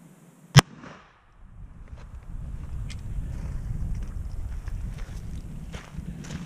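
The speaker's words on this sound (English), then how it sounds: "The Hornady ELD-M will be shot first." A single loud, sharp .30 caliber rifle shot firing a Hornady ELD-M bullet into gel, followed by fading echo and then a low rumbling background outdoors.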